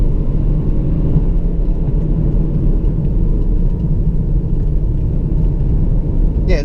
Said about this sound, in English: You got throttle blipping on the downshifts,